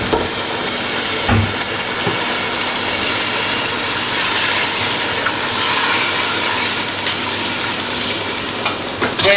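Steady, loud hissing of steam escaping from a pressure cooker cooking a sugar mixture in a home kitchen, continuous and close, with a faint low rumble underneath.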